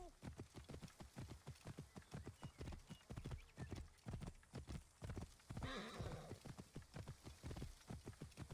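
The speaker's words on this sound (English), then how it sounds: "the horse is faster than the camel was" Rapid, rhythmic hoofbeats of a galloping horse in Assassin's Creed Origins, loud and close, with a brief neigh partway through.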